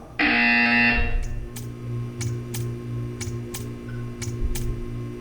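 A Portal 2 test chamber buzzer blares loudly for about a second, then fades into a low mechanical hum and a series of short clicks and ticks.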